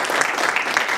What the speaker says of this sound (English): at this moment I must say an applause because they have been really working.